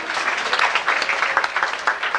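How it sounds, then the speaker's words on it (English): Theme park show audience at Walt Disney World in 1989 applauding a skipper, a dense, steady burst of clapping from a group, fairly close and loud for about two seconds. "Let's give him a nice round of applause."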